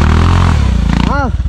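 Motorcycle ridden off-road shifts into first gear, its engine loud and close with a steady throbbing drone that changes pitch, and a voice speaks briefly near the end.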